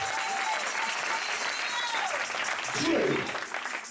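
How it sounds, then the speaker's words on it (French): Church congregation applauding loudly at a prayer campaign gathering, a dense sustained wash of clapping over the whole stretch with a slight swell near the end. "Acclamons très fort."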